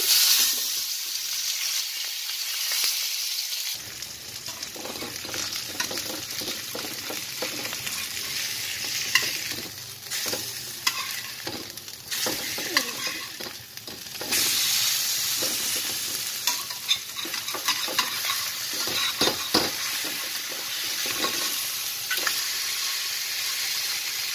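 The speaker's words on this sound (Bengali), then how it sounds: "আমি এখন ভাজবো।" Steady crackling sizzle of food frying in hot mustard oil on a nonstick pan, loud and continuous, with occasional scraping and stirring noises throughout.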